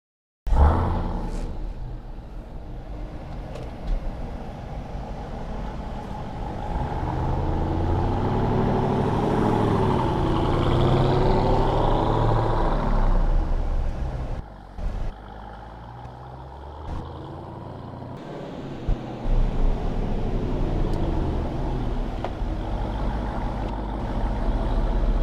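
The supercharged 707-horsepower engine of a 2018 Jeep Grand Cherokee Trackhawk droning on the road, a low sustained rumble that swells in the middle, then drops to a quieter cruise with a few brief clunks.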